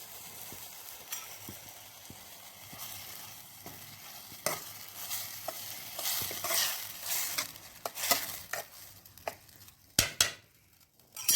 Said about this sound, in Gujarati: મસ્ત સુગંધ આવ્યો લસણ મૂકીને વઘાર્યું ને